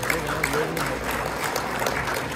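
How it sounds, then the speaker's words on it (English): Brief applause from an audience at a community event honoring guests, a short burst of mixed clapping with some voices under it. "A round of applause for these gentlemen."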